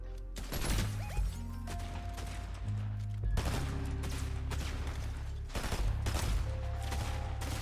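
Bursts of rapid gunfire from a Fortnite match crackle in three dense clusters separated by short lulls, loud and close, mixed with game sound effects and no talking.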